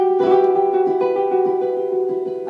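A ukulele plays close piano-like cluster chords alone, a sustained shimmering voicing with quick repeated strums pulsing underneath throughout.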